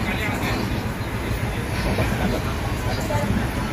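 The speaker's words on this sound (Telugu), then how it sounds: "ఇప్పుడు మేమందరం తాడిపత్రి నుండి తిరుపతికి వెళ్ళి ట్రైన్లో వెళ్తున్నాము." A passenger train travelling from Tadipatri to Tirupati rumbles steadily with a continuous roar and faint wheel clatter, heard from inside the carriage, with voices murmuring in the background.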